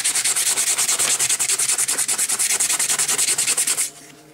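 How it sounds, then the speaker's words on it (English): Quick rapid back-and-forth sanding of a homemade crystal battery electrode, a loud scratchy rhythmic rubbing of about twenty strokes that stops abruptly, close up with no talk. "Put another quick sand on it."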